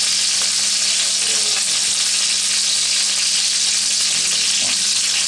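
Tri tip searing in a cast iron Dutch oven makes a loud, continuous, close sizzle that stays constant throughout with no pauses and no voices.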